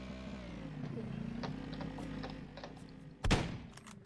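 Faint Hurtworld gunfire with scattered quick shots over a low engine rumble, then one louder burst near the end.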